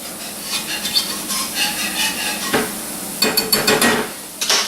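A spatula works a very thick roux in a Teflon pan, making scraping strokes over a low sizzle, with sharper clusters of scrapes and knocks toward the end.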